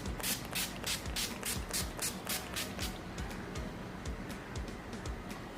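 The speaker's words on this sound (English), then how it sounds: "to set my makeup in place, I'm going to be using Miss Claire matte finish setting spray, and I'm going to be spritzing this all over my face" Repeated quick spritzes of Miss Claire matte finish setting spray onto a face, a rapid series of soft, hissing pumps at close range, brisk at first and then lighter and more scattered.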